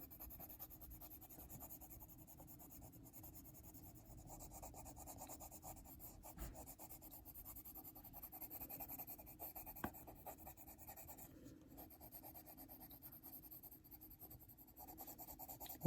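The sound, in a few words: colored pencil coloring on paper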